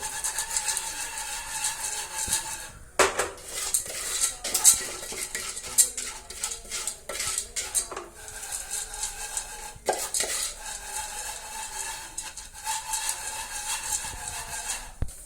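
A utensil scrapes and clatters against a metal pan in quick irregular strokes, stirring popcorn kernels that rattle, close and fairly loud throughout.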